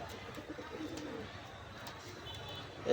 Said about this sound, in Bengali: এটি ব্রিডিং কবুতর, এইটা নর।